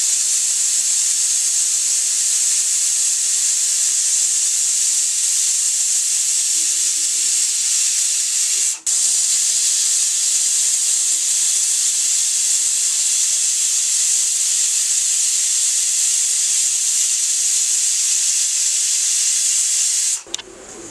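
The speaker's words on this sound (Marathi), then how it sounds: "आता फुल गॅसवरती आपण 2 शिट्या देणार आहोत" A pressure cooker on full gas cooking masoor dal lets off a loud, steady steam hiss that runs unbroken for about twenty seconds, with one brief dip partway through, before cutting off abruptly.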